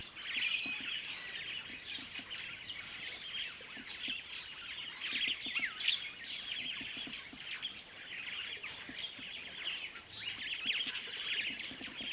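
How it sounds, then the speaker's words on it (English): Many birds call and chirp together in the morning bush of Kruger National Park, a dense, continuous chorus of tweets and whistles at moderate distance, with no voices. "once the sun broke through, the bird life came out, making the most of the warmth that it had to offer"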